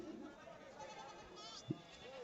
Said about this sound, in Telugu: మంచిగా ఉన్నాయి పిల్లలు, మేక పిల్లలు, గొర్రె పిల్లలు.